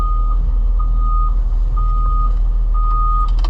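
A Cat 320 E L excavator tracks along with a constant low engine rumble, while its reversing alarm sounds a steady series of evenly spaced beeps over it.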